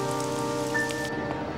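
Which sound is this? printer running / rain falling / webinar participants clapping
rain falling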